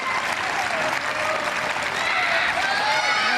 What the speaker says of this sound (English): stepmom Alison leads the cheering with the Scottish saltire behind her